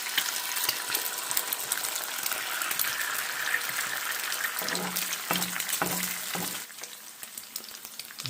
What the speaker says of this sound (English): See if I can get a couple eggs fried up.